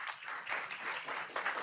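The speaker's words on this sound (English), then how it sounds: "Please give her a round of applause." Faint audience clapping greets Representative Maxine Dexter at a fireside chat, soft irregular applause coming in waves over a brief moment, distant and fairly quiet.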